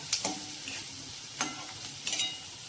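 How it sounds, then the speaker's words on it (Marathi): Chopped onion softening in a covered pan for pithla gives a low, steady sizzle, broken by three short scraping stirs spaced about a second apart. "तर मी झाकण ठेवून जरा कांदा शिजवून घेऊया."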